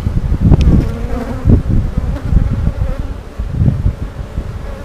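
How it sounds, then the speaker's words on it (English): Honey bees in an open hive make a loud, close, continuous buzz that swells in repeated bursts as insects fly past, with no talking. "That's a lot of bees."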